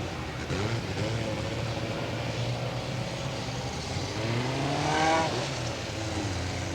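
Stock car engines drone steadily on a racing circuit, a distant, sustained roar with shifting pitch and a swell of revving near the end, mixed with broad crowd and track ambience.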